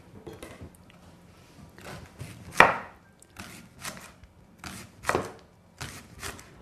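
A knife slices an onion into rings, giving a handful of sharp, irregular cuts against a board, fairly quiet and alone with short pauses between strokes.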